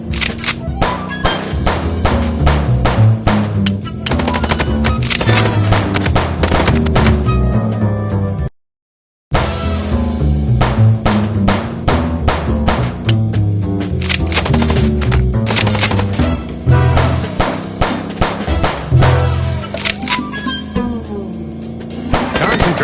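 Gunfire in the video game Chicken Police during a car chase: rapid, loud, sharp shots crackling in dense irregular bursts over a backdrop of music, broken by one brief silence.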